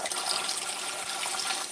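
Cold tap water streams steadily into a measuring cup of warm water, a continuous close splashing pour lasting a couple of seconds with no voices.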